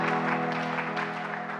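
A church congregation applauds a newly consecrated bishop, steady crowd clapping filling the space throughout, with a sustained tonal hum beneath it.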